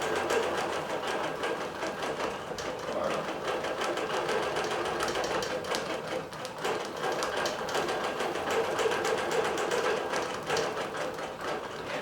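Digital quilting machine stitching a row of butterflies to finish a quilt, giving a steady, fast mechanical whir with rapid needle ticking that runs unbroken and fairly quiet throughout.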